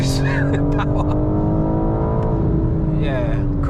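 A BMW G82 M4 with a ZF gearbox at full throttle, the engine droning loud and steady from inside the cabin while someone talks over it.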